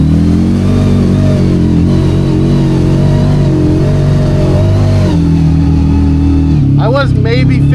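Off-road vehicle engine revving hard at about half throttle while pushing through a beaver dam on a powerline trail, a loud steady drone with rising and falling pitch and people talking over it.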